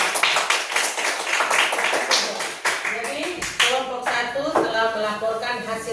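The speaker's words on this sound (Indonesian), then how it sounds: "Tepuk tangan dulu untuk kelompok 1" A classroom group claps for the first presenting team, a quick, loud patter of hands at the start that thins as a voice and sung or spoken tones take over.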